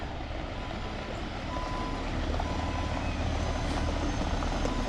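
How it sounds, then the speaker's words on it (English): A sand delivery truck backs up at a septic system job site, its steady reversing beeps repeating over a loud, continuous diesel engine rumble close by. "You guys gotta check out this truck."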